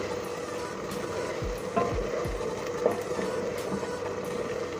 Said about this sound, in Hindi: प्याज बस इतनी ही इसको करना है फ्राई।